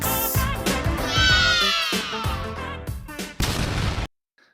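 A loud explosion sound effect closing out a music-picks segment, a dense booming roar that swells, rumbles, hits once more and then cuts abruptly to silence.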